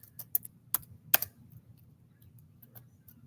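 Sparse keystrokes clack on a computer keyboard: a few sharp, close taps in quick bursts, then quieter scattered clicks over a low background hum, with no talking.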